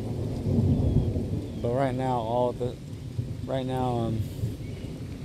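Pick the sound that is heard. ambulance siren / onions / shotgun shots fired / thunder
thunder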